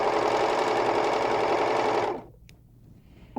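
A sewing machine stitches a decorative rayon thread edge, a steady loud mechanical whir running for about two seconds before stopping abruptly, followed by near quiet and a faint click.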